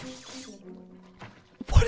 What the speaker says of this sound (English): How does it feel to break the glass